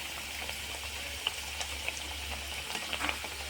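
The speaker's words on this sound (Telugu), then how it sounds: "తిరిగేసేసి మళ్ళీ బ్రౌన్ కలర్ వచ్చేంత వరకు మంచిగా దూరగా వేగనివ్వాలండి" A wheat-flour sweet fries in oil until brown, making a continuous bubbling sizzle with scattered small pops and crackles throughout.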